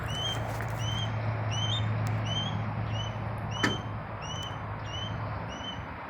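A hawk carrying off prey outdoors gives a series of repeated, high, thin screaming calls, moderately faint and spaced every second or so, over a steady low background rumble.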